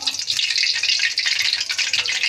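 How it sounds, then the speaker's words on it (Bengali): Oil heats and sizzles in a kadai, a close, steady crackling hiss with dense bright spatter throughout, no talk. "বন্ধুরা, কড়াইতে তেল গরম করতে বসিয়ে দিয়েছি।"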